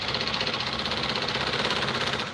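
A sewing machine runs continuously while stitching a Patiala salwar, giving a fast, steady mechanical whir and rattle, close and fairly loud, easing off at the end with no talking.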